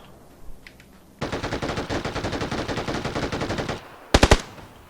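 Rapid automatic gunfire in a video game shooter: a dense sustained burst of about two and a half seconds, then a short pause and a few loud sharp final shots close by, with no talking.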